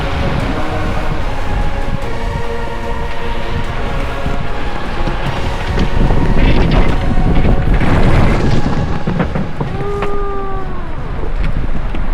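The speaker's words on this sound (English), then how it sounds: "We got hit by quite a heavy gust" A heavy gust of wind strikes a sailboat on a cruise toward Dartmouth, a sustained loud roar of wind noise and rushing water swelling around the middle, with a brief whistling tone near the end.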